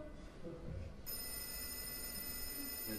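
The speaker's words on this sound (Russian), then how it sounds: "из мэрии я узнаю такой продолжительный звонок" A telephone in a radio play rings with a long, continuous electric bell tone that starts abruptly and holds steadily at moderate volume under a soft room background.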